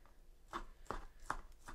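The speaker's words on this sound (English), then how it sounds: "I'm just going to chop it into rough pieces" Four crisp knife strikes chopping cooked chicken on a cutting board, evenly spaced and close, with quiet gaps between each chop.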